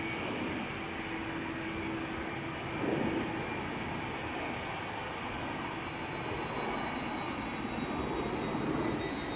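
Two Boeing 747s taxi at Schiphol Airport, heard as a distant, steady jet engine drone with a high whine and a low hum, fairly faint and without voices.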